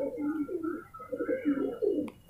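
Pigeons coo softly and repeatedly in low, throaty murmurs while eating, a small flock close by with overlapping calls and a brief click near the end.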